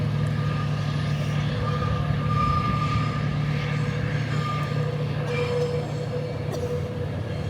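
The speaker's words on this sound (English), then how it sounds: "Just as a train comes and starts snaking along the train track." A train rolls along a coastal railway beside a scenic motorcycle route, giving a steady, continuous rumble of rail cars with faint high wheel-squeal tones throughout, heard at mid-distance with no talking.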